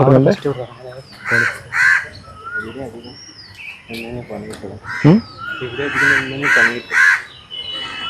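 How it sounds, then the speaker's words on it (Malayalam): Several harsh crow caws ring out in bursts, mixed with other bird calls, while people talk nearby throughout. "കാക്കല്ലേ?"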